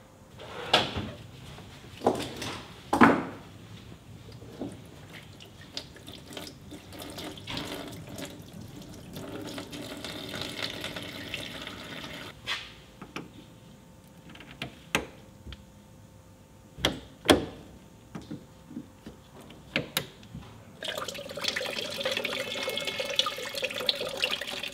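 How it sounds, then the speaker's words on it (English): Coolant drains from the disconnected charger lines at the back of a Nissan Leaf during a charger repair, a soft ongoing trickle of liquid broken by sharp clicks and knocks of handling, with no one talking. "we need to drain that coolant and disconnect the lines down the back at the charger"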